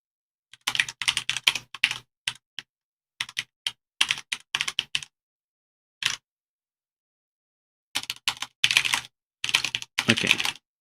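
Quick clattering keystrokes on a computer keyboard come in irregular bursts with short silent gaps, close and crisp, with no voices.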